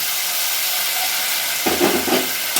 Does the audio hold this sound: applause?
no